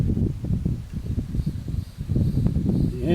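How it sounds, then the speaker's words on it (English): Wind blowing outdoors around a camp stove setup, a steady low buffeting rumble close to the microphone that gusts and eases throughout. "This wind blowing is affecting it, I believe."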